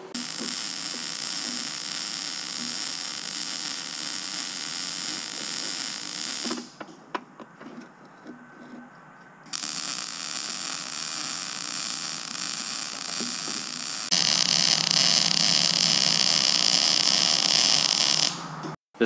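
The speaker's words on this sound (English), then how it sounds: "We're going to run some tacks down here and then go ahead and weld it up." Steel sheet being tack welded to tubing, with bursts of harsh buzzing static arc noise broken by a short quieter gap, then a longer, louder sustained crackle before an abrupt stop.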